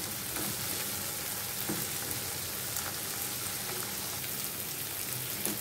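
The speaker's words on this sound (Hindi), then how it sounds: "फास्ट गैस पे इसे स्टर फ्राई कीजिए।" Dried bombil fish stir-fried on a high flame, giving a dense, even sizzle like steady rain with a few soft stirring scrapes, close and continuous without speech.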